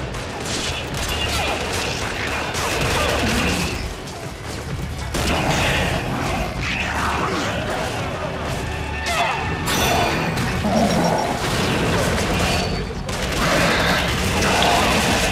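Sustained rapid machine gun fire in Gears of War: Judgment rattles in dense bursts, mixed with crashes and booms from the fight, while a player talks over the noise.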